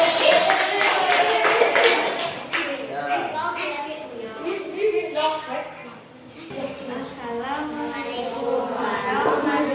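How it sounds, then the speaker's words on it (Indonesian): Classroom applause as a student group takes its turn to present, quick clapping from children mixed with lively voices and chatter throughout, fairly close and loud. "Tepuk tangan."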